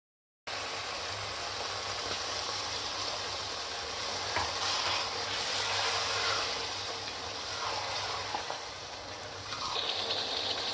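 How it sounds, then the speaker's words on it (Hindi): Water is poured into a chicken curry cooking in a pot, a soft steady hissing and gushing sizzle that stays fairly faint and continuous, with no talk. "अब हम इसमें 1 कप पानी शामिल कर देंगे।"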